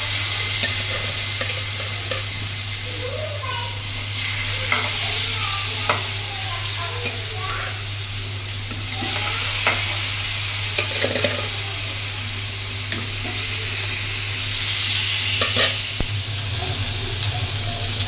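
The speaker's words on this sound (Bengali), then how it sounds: "তো প্রথম আমি মাছটি ভাজিয়ে নিলাম।" Fish fries in a pan with a loud, continuous close sizzle and hiss, broken by occasional clinks and scrapes of stirring, over a low steady hum with no voices.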